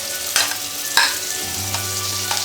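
Finely chopped onion goes into a pan with ginger, garlic and green chili for chicken puttu, frying with a steady sizzle broken by a couple of sharp spoon-on-pan clanks; close and moderately loud, with no voices.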